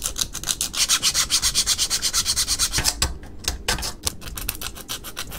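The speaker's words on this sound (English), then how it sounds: "I need to really sand down a lot of these portions so that they can actually fit together nicely" Rapid back-and-forth sanding of 3D printed prop sword pieces for the guard and hand, loud and rhythmic strokes that keep a steady pace, then turn choppier and more irregular near the end, with no talking.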